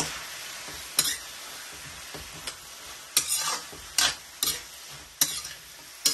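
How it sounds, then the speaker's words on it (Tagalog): Pancit miki noodles being stirred with a little soy sauce in a pan, giving a soft steady sizzle broken by several sharp utensil scrapes and clinks against the pan at irregular intervals. "Haluin lang natin ng haluin."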